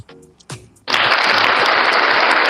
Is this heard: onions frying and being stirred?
no